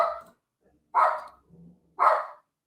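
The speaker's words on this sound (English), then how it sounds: "Sorry about my dogs barking." A dog barks three times in a slow, evenly spaced series, sharp and fairly close, with brief silence between barks and a faint low whine in between.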